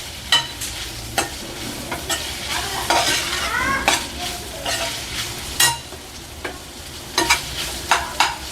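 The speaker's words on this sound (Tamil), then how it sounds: "அப்படியே இஞ்சி பூண்டு பேஸ்ட் போட்டுக்கலாம். பச்சை வாசனை போகிற வரைக்கும் நல்லா மிக்ஸ் பண்ணிக்கலாம்." Ginger garlic paste sizzles in hot oil in a pan while a utensil scrapes and stirs it in repeated close, sharp strokes, with no voices.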